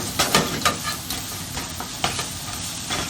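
Onions sauté in oil in a pan with a soft steady sizzle, broken by irregular scraping clicks of stirring at close range.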